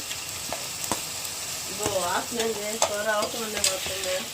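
Green chilies and curry leaves sizzle steadily in a hot pan, with stirring crackles and pops up close, while a voice briefly talks over the frying midway.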